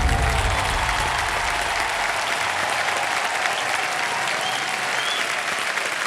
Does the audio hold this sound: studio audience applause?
yes